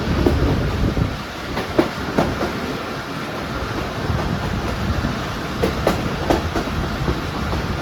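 The Pak Business Express passenger train rolls along the rails near Ghotki railway station, a steady loud rumble with faint rhythmic clicks of wheels over joints, heard from inside the moving train.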